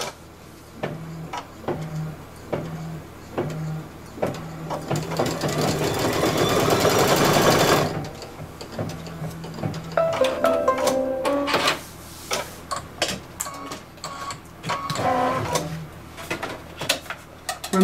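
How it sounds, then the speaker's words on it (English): An embroidery machine stitches a placement line for raffia on a hooped scarecrow project, a steady mechanical whir with rhythmic clicking pulses, louder in the middle, with sporadic clacks near the end. "Now it's going to stitch the placement line for the raffia."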